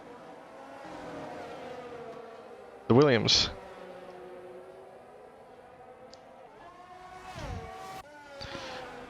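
Formula 1 race cars whine past in a racing video game, with buzzing engine tones rising and falling, one loud close pass early on and more cars later, all under a commentator's running talk.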